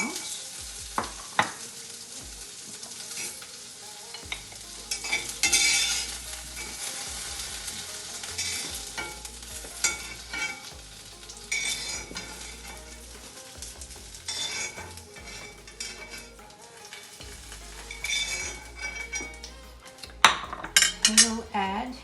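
Browned potatoes are lifted out of a sizzling frying pan for a Kerala-style vegetable stew, with steady frying sizzle under repeated close scrapes and clinks of a utensil against the pan.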